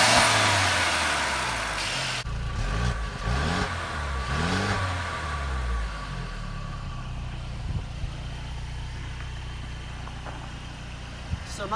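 A 2018 Mercedes C300 with a 2-liter turbocharged four-cylinder engine cranks and fires up, rising in a short rev before settling into a steady, fairly quiet idle close by.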